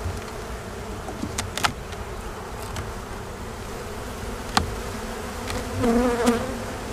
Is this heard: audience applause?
no